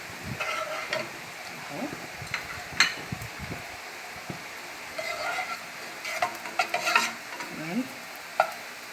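A tablespoon of butter sizzling in a hot frying pan for an okra and meat stew, a steady crackle with scattered scrapes and clinks of a spoon, and brief quiet talk over it.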